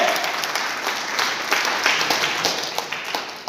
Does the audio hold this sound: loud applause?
yes